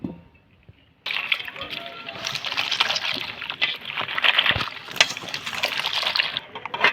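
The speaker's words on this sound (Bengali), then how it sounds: "এবার এগুলো আমি জল দিয়ে একটু ধুয়ে নেব।" Thin strips of cut ash gourd being washed and squeezed by hand in a bowl of water, with steady close sloshing and splashing after a quiet opening second.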